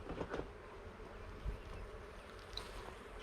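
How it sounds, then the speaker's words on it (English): Faint buzzing of honey bees close by, a soft continuous drone with a few brief louder passes. "look at those bees in there"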